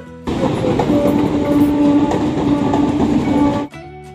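A train passes close by outdoors on a cold day, a loud, continuous roar of rolling wheels and clatter with a faint tonal whine that holds for over three seconds, then cuts off abruptly.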